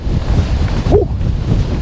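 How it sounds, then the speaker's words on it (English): Strong gusty wind buffets the microphone on an exposed Northumberland hilltop, a steady loud roar with surging gusts throughout and a brief whistling tone near the middle. "32-mile-an-hour winds and up to 57-mile-an-hour gusts, which, yeah, we've got that"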